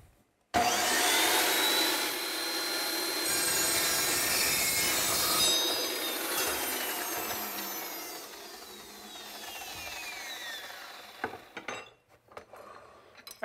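A power saw cuts through a clamped motor jackshaft for a vehicle build, a loud sustained whine and grinding screech lasting several seconds, then winding down with a few rattles and clanks.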